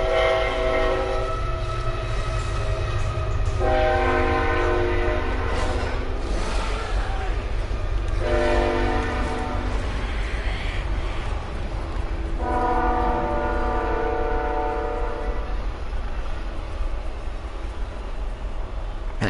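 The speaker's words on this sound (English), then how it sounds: "Train going by." A train passes close by, its horn sounding in several long harmonic blasts over a steady rumbling roar of rolling wagons that lasts throughout.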